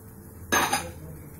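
A utensil scrapes and knocks once against a pan while milk and milk powder are stirred together over low heat, a short close clatter over a quiet background hum.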